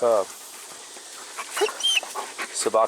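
A dog pants in short, quick breaths close to the microphone, broken by brief vocal bursts and a person speaking.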